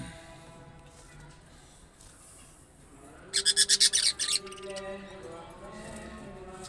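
An English pigeon gives a short, loud burst of pulsing calls or wing claps midway through, close by. Someone speaks quietly before and after it over a low background hum.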